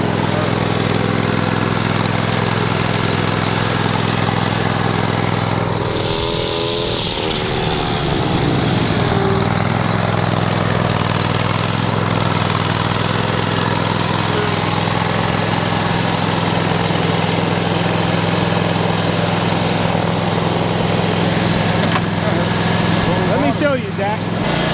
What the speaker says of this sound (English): Just drive the mower.